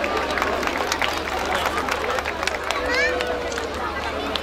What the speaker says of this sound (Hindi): ये प्यारे प्यारे बच्चों के लिए जोरदार तालियां बजाएं।